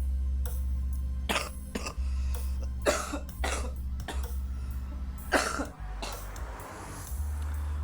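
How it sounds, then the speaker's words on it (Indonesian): Someone coughs repeatedly, several close harsh bursts over a constant low hum. "Batuk guys"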